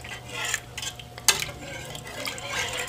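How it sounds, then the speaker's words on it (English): Milk being stirred in a pot as it comes to a boil, with soft scraping and a sharp utensil clink against the pot over a faint bubbling hiss, quiet and close. "remember to keep stirring it"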